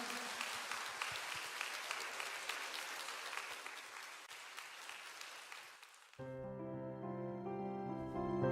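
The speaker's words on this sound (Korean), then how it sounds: "주님께 영광의 박수를 올려드립니다." Church congregation applauding in worship, a dense, sustained patter of many hands that runs for several seconds before giving way to a soft keyboard or organ chord held underneath.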